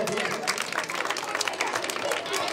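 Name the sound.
loud applause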